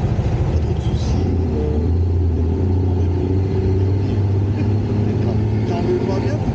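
Steady low engine drone and road rumble from a Yamaha Tricity 155 three-wheeled scooter cruising along a straight road, continuous and close throughout with wind noise and no talking.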